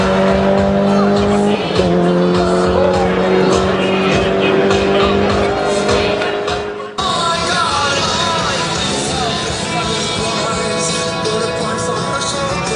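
A 135-horsepower Suzuki Maruti 1.6 street racing against a BMW 535 turbo, with loud, sustained engine roar that climbs in pitch through the gears and a sharp shift break midway. Crowd noise and voices run underneath.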